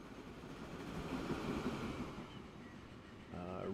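A train in the video game Transport Fever 2 rumbles steadily along the track, a continuous mid-loud rolling drone that swells and then fades, with a brighter mechanical tone rising near the end.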